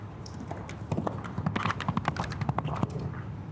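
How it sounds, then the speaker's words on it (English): Show jumping horse cantering in an outdoor arena at a CSI3* Grand Prix jump-off, its hooves thudding in a steady, fairly close rhythm of repeated beats against background arena noise. "Huge jumping horse. So scopy, so athletic."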